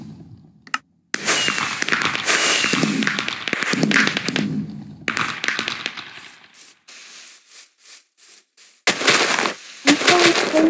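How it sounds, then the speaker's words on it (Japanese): Achievement-unlock fireworks in the Minecraft video game crackle and pop in dense bursts, stopping briefly, resuming, thinning to scattered taps, then returning in a loud cluster near the end, with no voices. "実績解除の花火が重いかな？"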